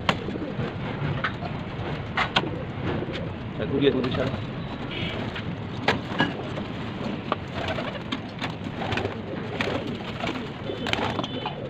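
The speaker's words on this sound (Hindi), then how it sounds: "तो जंगली कबूतर बैठा वहाँ पर" Wild pigeons cooing in soft low calls amid outdoor background noise in Khandwa, India, with someone talking nearby and occasional sharp taps.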